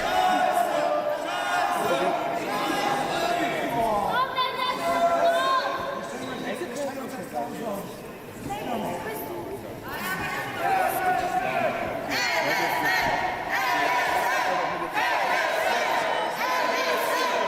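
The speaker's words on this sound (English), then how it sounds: "You can hear what the crowd think here in Berlin of the Wolves of Sisu." A crowd at a wrestling event in Berlin reacts loudly, with surging cheers, shouts and chatter rising and falling, while a commentator talks over it.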